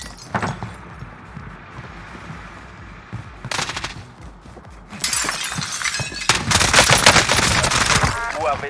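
Automatic gunfire from a light machine gun in the battle royale game Warzone, loud, dense bursts with sharp impacts, heaviest in the second half, with scattered shots earlier.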